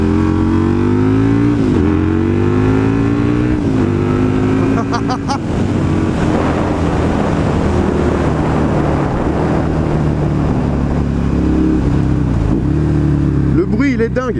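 A Husqvarna 900 Nuda motorcycle accelerates hard, its engine note rising through gears in loud, close sweeps, with a rider talking over the roar.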